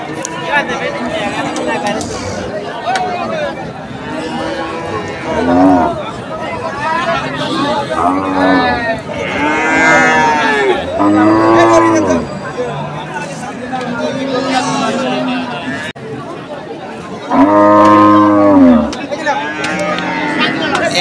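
Cattle, including a young bull, low repeatedly in long harmonic moos, loud and close at a cattle market, with a murmur of people talking nearby throughout.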